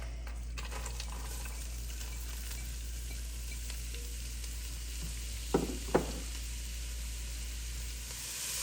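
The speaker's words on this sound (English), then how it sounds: "I like to preheat my pot over medium-high heat and add some olive oil. I will then start to sweat my leeks," Leeks, fennel and carrots sweating in olive oil in a pot over medium-high heat for minestrone, a soft steady sizzle with two brief clinks near the end, close by and without talk.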